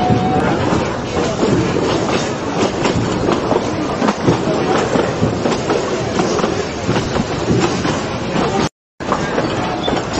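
A coal-fired steam train on the Durango and Silverton railroad runs with a loud, continuous rolling rumble and clickety-clack of wheels on track, close and steady throughout.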